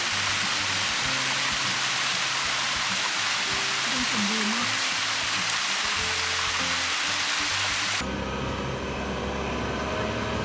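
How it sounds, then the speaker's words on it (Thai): A small waterfall and forest stream rush beside a mountain road at Ang Khang in the rainy season, a loud, continuous close roar of falling water that stays steady throughout. "น้ำป่าไหลข้างทาง น้ำตกเล็ก"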